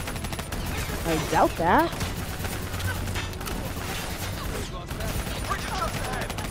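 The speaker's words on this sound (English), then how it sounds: "I don't even know who I'm shooting at this point. Am I even shooting?" Gunfire in the Call of Duty Black Ops III video game, a continuous chaotic battle din of overlapping shots and rumbling explosions, with someone talking over it and a whooshing effect partway through.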